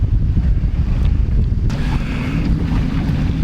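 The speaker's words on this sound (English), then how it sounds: "We've turned the corner and we're heading south pretty much, with the wind just on the stern quarter" Heavy wind buffets a sailboat running south in grey weather with the breeze on the stern quarter, a loud continuous low roar with water rushing along the hull.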